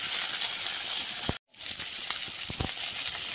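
Fish pieces frying in hot oil give a continuous soft hiss with a few sharp pops. It breaks off into a brief silence and then resumes.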